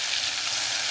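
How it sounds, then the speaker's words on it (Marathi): Ground masala paste for amti sautéing in oil, a loud, close, even hiss of frying that runs without a break for a brief moment, with no talk. "हा जो मसाला आहे हा तेल सुटेपर्यंत चांगला व्यवस्थित परतायचा"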